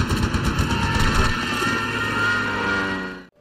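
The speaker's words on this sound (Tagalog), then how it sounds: "habang bumabaril muli ang eroplano ay agad na tinamaan at napatay ang medic" Aircraft guns fire in a war film battle set on the Tannenberg Line, heard as a dense, loud, continuous roar of rapid gunfire that fades away and cuts off near the end.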